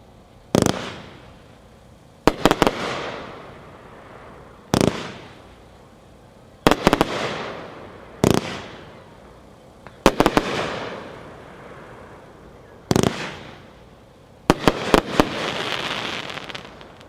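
A Gunslinger Psychedelic Night 120-shot firework cake fires at a demo, sharp loud launch cracks in separated bursts roughly every two seconds, each followed by a fading crackling tail, with rapid clustered shots near the end.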